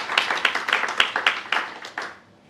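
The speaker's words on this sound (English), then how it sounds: "Another round of applause." An audience at an academic conference claps in a short round of applause, a burst of sharp hand claps that thins out and fades away within a couple of seconds.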